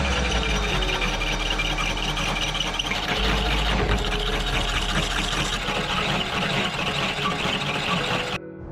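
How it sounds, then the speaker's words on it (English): Thick-wall steel tube being notched for a rock crawler trail repair, a loud, steady grinding roar with constant low rumble running the whole time before cutting off abruptly at the end. "Now to go ahead and notch this,"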